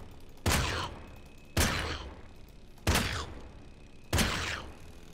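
Gunfire in a shooting video game: four loud, sharp shots, each with a short decaying tail, fired at a steady pace about a second apart with no talking.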